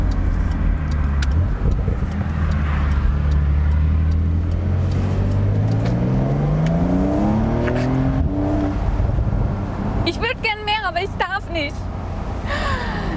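A Porsche 911 Carrera Cabriolet (992) with 385 hp, its engine and exhaust revving up in a long rising sweep and dropping back, loud and close, with a person talking over it.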